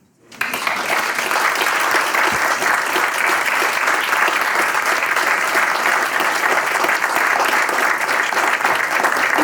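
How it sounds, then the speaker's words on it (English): Sudden burst of audience applause at a conference on election observation, erupting after a short pause and holding as dense, loud, even clapping from a large crowd. "applaud yourselves, everybody"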